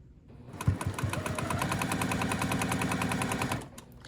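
A sewing machine stitches a star-in-a-star sawtooth quilt block in one steady, fast run of rapid mechanical chatter lasting about three seconds, close and fairly loud, preceded by a few handling knocks.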